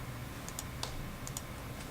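Command typed on a computer keyboard during architectural drafting work, a few faint light key clicks in small clusters over a steady background hiss.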